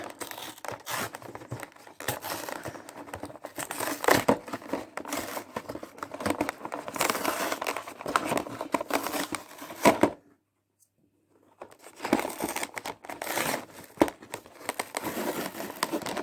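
A razor blade cuts into a plastic blister pack holding a DeAgostini 1:43 Żubr A80 truck model, with close irregular crackles, tearing rasps and clicks, broken by a second of silence before the crinkling resumes.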